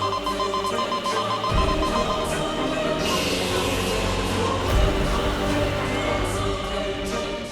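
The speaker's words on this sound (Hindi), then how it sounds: "ये तो वीर लोग का सिक्योरिटी अलार्म है" A security alarm rings continuously and loudly throughout in an indoor scene, a dense electronic tone with steady pulsing over layered dramatic music and effects.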